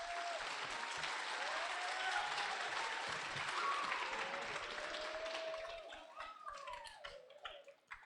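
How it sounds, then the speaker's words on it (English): A school audience applauds steadily, the clapping holding for several seconds and then thinning into scattered claps near the end. "So everybody give Mr. Hoops a round of applause."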